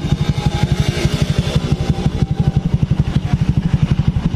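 A 2019 Honda Beat scooter engine running after an electric start, a close, loud, even low putter with a fast regular pulse and no talk over it.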